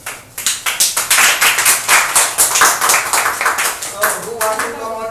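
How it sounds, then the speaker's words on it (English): A class of students claps together in a classroom, a burst of quick, overlapping hand claps that sounds close and fairly loud, with a few voices mixed in. "So clapping for class."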